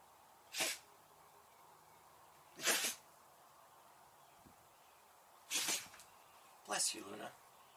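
A dog sneezes four times, short sharp bursts spaced a second or two apart, close and fairly loud over a quiet background.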